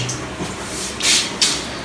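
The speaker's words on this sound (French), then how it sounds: "le robinet il coule" A leaking bathroom tap runs in a room in India, giving a faint, steady watery hiss that swells into two louder gushing surges near the end.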